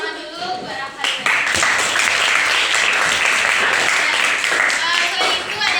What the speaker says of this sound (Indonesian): Tepuk tangan dulu buat Rafalina.